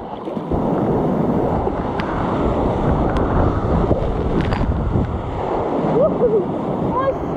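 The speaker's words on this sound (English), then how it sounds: "That's a lot of water coming out of here." On the Wairoa River, a heavy flow of water rushes out in a steady, loud wash, mixed with gusty wind buffeting close to the microphone.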